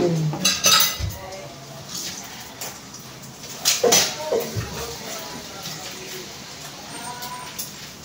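A plate being washed by hand, with cutlery and dishes clinking and clattering in irregular bursts close by over running water, voices talking faintly in the background.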